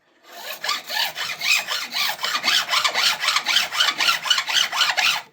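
Fine file drawn across guitar frets in a luthier's fret job, a close, even series of about fifteen rhythmic rasping strokes, loud and alone.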